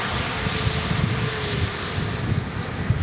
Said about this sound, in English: There's a Q8 A330 taxiing out.